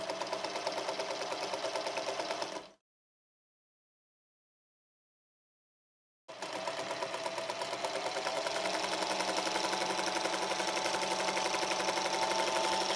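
Sewing machine stitching quilt strips together, a fast, even mechanical whir with rapid needle ticking, close and continuous, stopping for a few seconds of silence before running again at speed.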